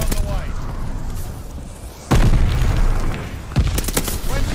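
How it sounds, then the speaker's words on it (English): An allied glide bomber strike in the multiplayer shooter Vanguard: two heavy booming blasts land a second and a half apart amid rumbling battlefield noise and scattered crackling fire. "Allied glide bomber on the way."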